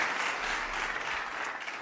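Steady applause fills the whole short stretch as a dense, even wash of clapping from a crowd.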